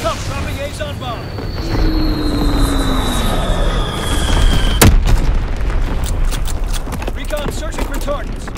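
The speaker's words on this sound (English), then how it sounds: "Dropping Azon bomb." A World War II video game battle on a USS Texas map, with a deep boom from an Azon bomb explosion amid constant battlefield rumble, aircraft drone and radio-style voice callouts.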